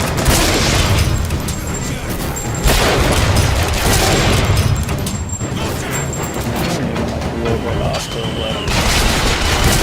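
Flak cannon fire in the video game Bioshock Infinite, a dense barrage of heavy booms and crackling blasts that keeps going without a break, loud and chaotic, with voices shouting over the combat.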